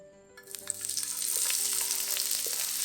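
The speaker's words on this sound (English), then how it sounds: "Stir in the aromatics." Squid stir-fries with onions, ginger and chilli in a hot pan, giving a steady close sizzle that swells as the ingredients hit the oil, with light scraping and stirring and no voices.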